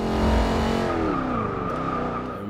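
The Jaguar XKR-S GT's engine roars in Forza 6, dropping in pitch as it shifts into second gear and then climbing again steadily, loud and close with no talk.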